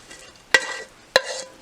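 Onions hit a pan and get stirred, two sharp scraping clatters of a utensil over a faint sizzle, close and quiet.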